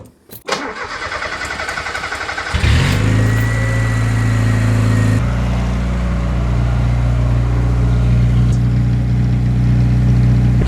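A starter motor cranks rhythmically for a couple of seconds, then the engine of a 30-year-old Lada Niva catches and roars up loudly before settling into a steady, rumbling idle nearby.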